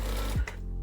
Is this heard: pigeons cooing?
no